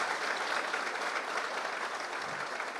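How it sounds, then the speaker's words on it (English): An audience at a state formation day celebration applauds in a dense, even wash of clapping that holds steady at moderate loudness throughout, with no one speaking over it. "deserves a good round of thundering applause"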